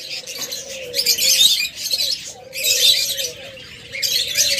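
Pet budgerigars, cockatiels and lovebirds chirp and call in a busy, loud chorus close by, with a steady whistled tone running through bursts of overlapping tweets.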